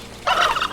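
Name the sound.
turkey gobbling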